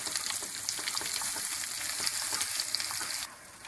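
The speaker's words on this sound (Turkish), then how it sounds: "Şimdi şöyle çok az yemek kaşığının ucuyla salça aldım ve bunu yağımda pişiriyorum" A small spoonful of tomato paste frying in melted fat in a pan, a dense, continuous close-up sizzle that stays even until it drops slightly near the end.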